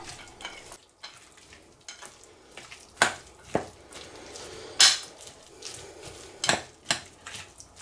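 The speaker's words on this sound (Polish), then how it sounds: "Wszystko dokładnie mieszam." A spoon scrapes and clinks against a bowl while stirring a ham and pineapple salad with mayonnaise, with soft wet mixing between irregular sharp knocks, close and fairly quiet.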